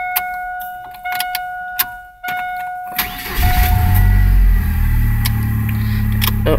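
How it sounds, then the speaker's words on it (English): A noisy car air-conditioning blower fan motor that runs only on speeds 3 and 4. A thin steady whine gives way to a loud, rough, continuous rushing drone with low rumble. "the noisy blower motor, and we have only fan 3 and 4 on speeds."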